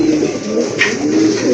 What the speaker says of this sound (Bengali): মাশাআল্লাহ, আরেক জোড়া কবুতর, গিয়াসুল্লি কবুতর।